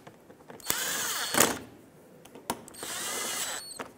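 A power drill drives fasteners into the radiator support bar of a 2012-2020 Ford Focus in two whirring bursts of about a second each, with clicks and handling noises between them, fairly close and with no talk.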